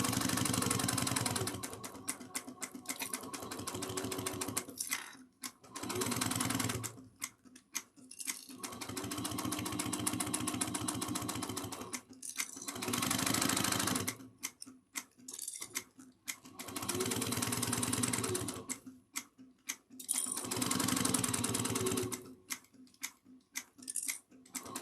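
Sewing machine runs in repeated bursts while back stitching the start and end of a seam on a dual-compartment cross-body bag, several loud steady whirring runs separated by short pauses.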